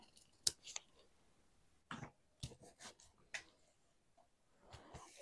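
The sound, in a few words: cutting paper with scissors along a dotted line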